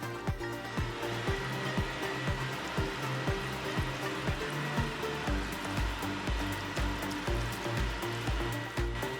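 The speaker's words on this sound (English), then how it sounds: "Now we're adding in our konjac noodles. All we need to do is mix everything up thoroughly" Konjac noodles being stirred and cooked in a pan, producing a continuous frying sizzle with repeated scraping and stirring knocks in a loose rhythm, close and moderately loud.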